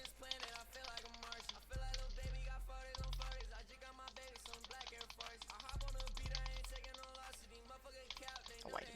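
Rapid mouse and keyboard clicks from a competitive Minecraft PvP match, with periodic low thumps and game effects, running steadily at moderate level with no talk.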